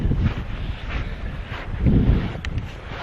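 Strong wind buffets the microphone on a sandy beach on Anglesey, a loud rumbling gusty roar that swells and eases over a few seconds, with no talking.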